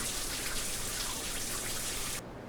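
A shower runs in a video game resort bathroom, a steady hiss of spraying water that cuts off abruptly near the end.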